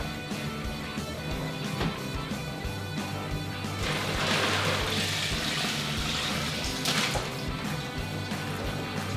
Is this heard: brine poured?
yes